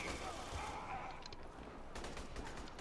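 Gunfire in the sci-fi shooter Aliens: Colonial Marines, a quiet burst of rapid shots that rattles through continuous game noise and faint voices.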